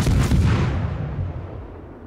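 A Pan-European Tier-3 destroyer's guns fire in the naval combat game World of Warships, one loud deep boom followed by a rumbling decay that fades over two seconds, with no voices.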